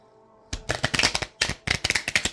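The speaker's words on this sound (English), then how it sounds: "But I am shuffling here live for you now." Tarot cards being shuffled up close, a rapid run of crisp riffling snaps in two quick bursts after a brief silent start, loud and alone.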